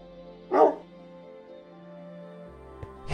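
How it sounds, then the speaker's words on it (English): A single short dog bark rings out close and loud, followed by a quiet, hum-filled room and a faint click near the end. "It's my dog."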